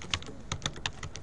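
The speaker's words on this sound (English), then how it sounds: "if I type in Walmart" Brief burst of typing on a computer keyboard, about half a dozen crisp key clicks in quick uneven succession, close and quiet with no talking.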